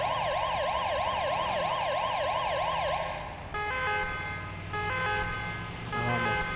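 A loud wailing ambulance siren in a driving game with an EMS mod sweeps up and down rapidly, then cuts to a steadier two-tone siren over a rumbling engine, with no voices.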